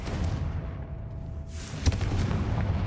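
A Confringo blasting spell from the Hogwarts Legacy video game goes off as one sharp, punchy explosion partway through, set against a low, rumbling game backdrop.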